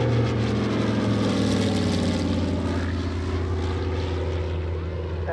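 A Mitsubishi A6M2 Zero propeller fighter makes a pass at an airshow, a loud sustained droning engine roar with slowly shifting pitch, with radio voices talking over it.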